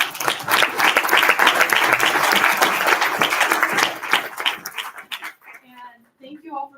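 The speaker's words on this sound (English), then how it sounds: "let's give them one more round of applause" Luncheon guests give a warm round of applause, dense clapping that runs for several seconds and then thins out, with voices starting to talk as it fades.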